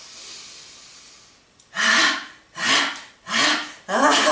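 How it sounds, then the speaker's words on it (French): A group of people in a laughter yoga session inhale deeply together, four long, loud, rushing breaths in a steady rhythm, each swelling and fading, with a faint quiet stretch before the first. "Alors, inspirez."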